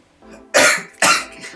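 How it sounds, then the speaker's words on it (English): Two loud, sharp coughs from a person close by, about half a second apart, with no talking. "I got a cough."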